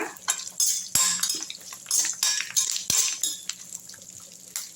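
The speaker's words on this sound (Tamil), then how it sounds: "தேங்காவை வந்து நல்லா வந்து வதக்கிங்க" Grated coconut being sautéed in a pan, with a metal spoon scraping and clinking against it in irregular bursts and soft stirring in between, close and with no talking.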